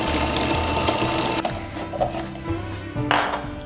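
A food processor pulses garlic and lemon juice for toum, its motor whirring in short repeated bursts with clattering blade noise, close and fairly loud, no voices.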